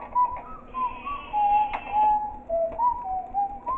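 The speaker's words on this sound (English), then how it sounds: "I hear his whistling, and I hear him saying detention for you." A principal character in Baldi's School House whistles a wavering, melodic tune, clear and fairly close, in a short phrase that rises and dips without a break.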